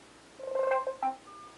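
A mobile phone gives a short run of electronic beeping tones as it is switched off, a quick rising chirp followed by two brief notes, close and clear in a quiet room.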